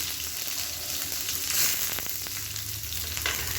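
Chopped small onions (shallots) sizzle and crackle in hot oil with mustard seeds and curry leaves for a chutney, a steady close frying hiss with occasional pops and stirring.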